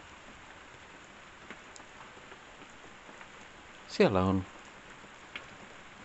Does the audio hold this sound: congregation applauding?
no